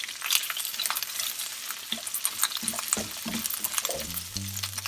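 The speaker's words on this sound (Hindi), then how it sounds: "पहले हम ग्रेट किया हुआ अदरक डाल देंगे, थोड़ा से फ्राई कर लेंगे अच्छे से" Grated ginger fries in a pan for samosa filling, a close, crackling sizzle with stirring scrapes and a few spoon knocks toward the end, and no voices.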